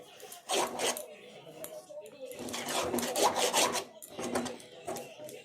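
Spices being stirred and fried in a pan for a curry, with a rough scraping rasp of the utensil sweeping the pan in repeated strokes, loud and close, and pauses between strokes.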